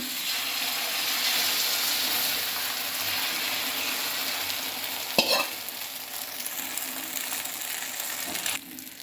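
Egg omelette batter sizzles on a hot dosa griddle in a steady bright hiss, broken midway by a sharp scrape and a brief clatter near the end.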